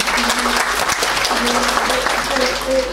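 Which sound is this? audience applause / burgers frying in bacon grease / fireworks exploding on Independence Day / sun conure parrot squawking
audience applause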